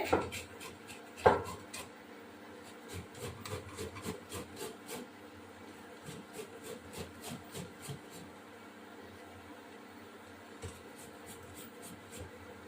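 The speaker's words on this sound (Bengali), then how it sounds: "একটু আদা গ্রেট করে দেব" Fresh ginger is rubbed against a grater for a masala chicken cauliflower roast, making quiet, close rasping strokes in irregular bursts. Light kitchen clatter is heard at the start.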